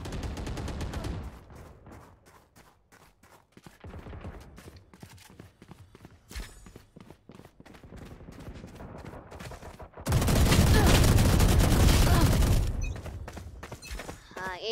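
Bursts of Vandal rifle fire in Valorant, a rapid crackling volley near the start and a loud sustained spray around the tenth second, with scattered single shots and game noise between.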